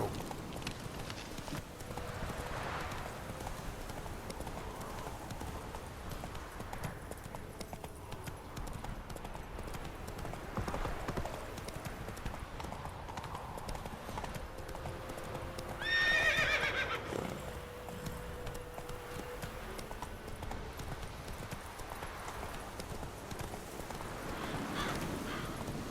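Roach, Geralt's horse in The Witcher 3, gallops with rhythmic clip-clop hoofbeats throughout and gives one loud neigh partway through, over soft ambient background.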